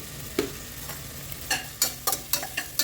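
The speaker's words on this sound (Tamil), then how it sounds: "ஆனியன் போட்டு வதக்கியாச்சு" Onions sautéing in a pan for chickpea pulao, with a soft steady sizzle under a series of sharp scraping stirs that come in quick bursts toward the end, close and alone.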